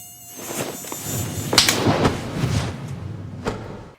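A single mosquito whines around a room, its faint buzz drifting under a busy mix of thuds, bumps and scuffling as bodies tumble over each other in the chase.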